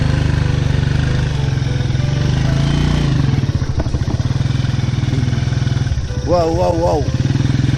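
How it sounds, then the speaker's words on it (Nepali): A motorcycle engine rumbles steadily close by on a cold, windy mountain road, with someone talking over it and a brief vocal exclamation near the end. "बाइक त जान्छ"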